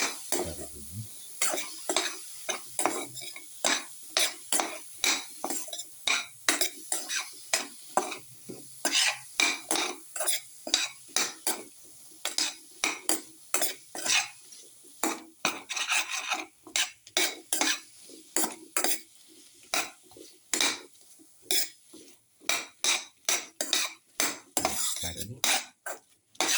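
Utensils mix a garlic winter melon yogurt casserole in a bowl or pan, a long run of rapid, rhythmic metallic scraping and clinking strokes, loud and close, with no voices.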